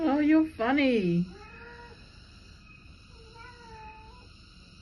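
Two loud, close cat meows at the start, then quieter drawn-out mewing over a steady high insect drone in Bali near Kintamani and Mount Batur.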